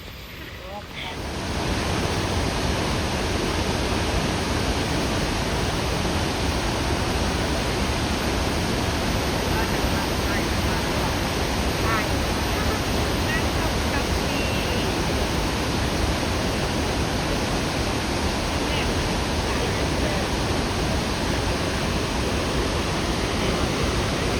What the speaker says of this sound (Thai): ไม่ไกลมีน้ำตกตรงนี้ลง